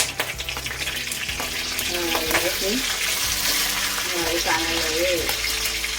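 Whole spices, curry leaves and chili sizzle in hot oil in a home kitchen pan, a steady dense frying hiss with occasional stirring scrapes, a faint voice briefly present underneath.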